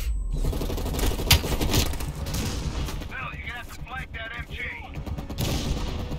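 Machine gun fire in the video game Call of Duty Black Ops Cold War, loud bursts of rapid shots with sharp cracks, mixed with game noise while voices talk in the middle.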